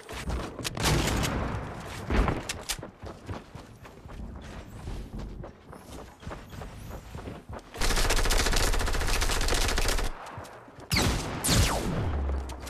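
Gunfire in a shooter video game, with dense overlapping bursts of automatic fire, thuds and mechanical clanks, then a sustained loud roaring stretch and a final volley, all close and intense without talk.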